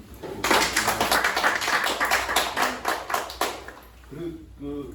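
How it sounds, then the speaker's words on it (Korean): A lecture audience at a climate and energy transition talk bursts into dense, loud applause that swells and then fades out, with a voice returning as it ends. "박수."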